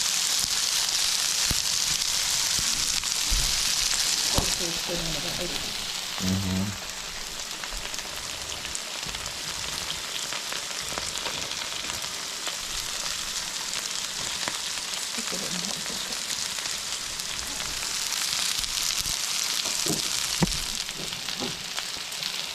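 Onions caramelize in a frying pan in a steady, rain-like sizzle that runs throughout, with a few brief clinks and stirring sounds mixed in.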